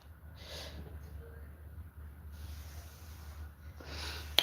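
A daughter coughs in another room upstairs, giving two muffled, distant bursts, one early and one at the end, over a steady low hum and faint room noise.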